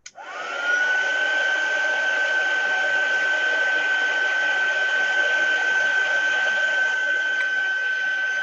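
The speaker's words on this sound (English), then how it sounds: "I'm gonna dry it with heater" A small electric heater blows a steady, loud whooshing stream of air onto a watercolor painting to dry it, starting up abruptly and running continuously with a faint high whine.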